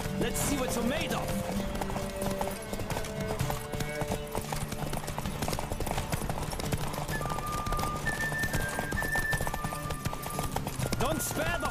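Hooves of a galloping horse pound out a rapid clip-clop during a race in The Witcher 3, with game music and voices talking over the running.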